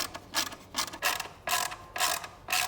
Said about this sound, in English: So now we're just going to place the screws back in.